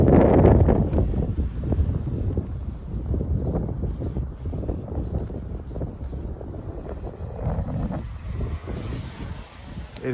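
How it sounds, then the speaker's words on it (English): Strong wind buffets the microphone at an RC jet flying field, a continuous low roar with gusty surges and no talk. "It is super windy"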